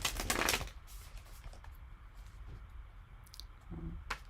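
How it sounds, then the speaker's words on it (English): Tarot cards being shuffled by hand, a loud burst of rapid riffling at the start followed by softer scattered flicks and card handling, ending with another brief shuffle, no talk. "let's give it a little more of a shuffle."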